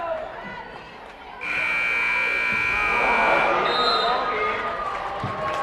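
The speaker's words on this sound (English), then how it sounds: "You'll hear the buzzer soon." A sustained electronic end-of-game buzzer blares over a noisy gym crowd at a high school basketball playoff game, then cheering and chatter swell as the horn cuts off.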